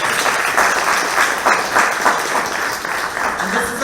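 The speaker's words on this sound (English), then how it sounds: "Let's give him another round of applause." A crowd at a civic reception and awards ceremony gives the mayor a round of applause, sustained dense clapping filling the hall with a faint voice beneath it.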